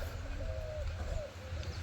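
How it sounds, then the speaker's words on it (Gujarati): Soft pigeon coos, a few low rolling calls in a row, heard fairly close over a steady low hum of background noise. "કબૂતર નામ લેતા પર કબૂતર હાજર થઈ ગયા"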